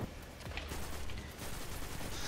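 Dense, continuous gunfire from the Destiny 2 video game during a Crota Nightfall mission, a steady wash of rapid shots at even loudness throughout with no talk.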